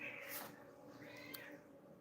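A house cat meows during a live tarot reading stream, two drawn-out mid-pitched meows heard faintly over a steady background hum.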